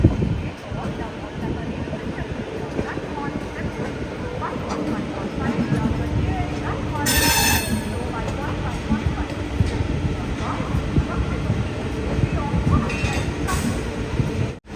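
Indore-Nagpur Vande Bharat train at Nagpur Junction station, a continuous rumble of rolling stock and platform noise throughout, with a voice talking over it and brief sharp bursts partway through.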